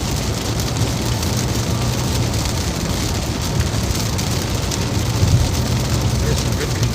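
Hail and thick, dense water droplets pound a storm-chase truck during a severe weather outbreak, a steady loud drumming hiss of impacts on the vehicle that runs throughout, with occasional heavier hits.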